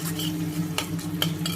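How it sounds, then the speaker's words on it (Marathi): Moong dal sabzi being stirred in a pan just after salt goes in, soft scraping strokes over a low sizzle, with a few sharper spoon scrapes standing out close by. "मीठ टाकल्यानंतर आपल्याला पुन्हा ते एकजीव करून घ्यायचं आहे"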